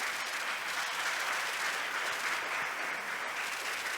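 A church congregation applauds, a steady wash of many hands clapping together, even and sustained throughout, heard from a slight distance.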